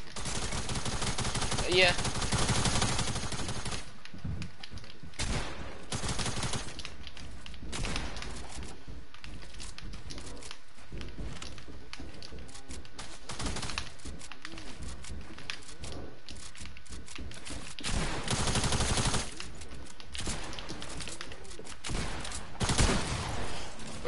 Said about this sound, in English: That's the fastest gun.